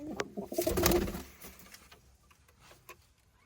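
Pigeons coo softly close by in a short burst of throaty calls, followed by faint fluttering and scratching sounds.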